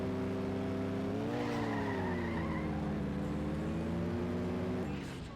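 A car in a racing video game skids and flies off the track, engine droning loudly with a steady harmonic whine that wavers as tires squeal throughout.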